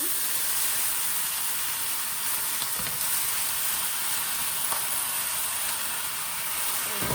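Freshly washed spinach hitting a hot pan with pork gives a loud, steady, close sizzle and hiss that continues without pause, with faint stirring noises and no talking.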